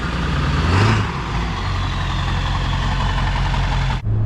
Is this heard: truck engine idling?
yes